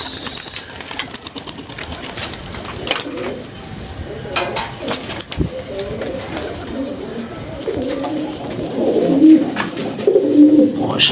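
Pigeons coo repeatedly in a loft, low throaty calls rising toward the end amid rustling, clattering and a faint voice in the background.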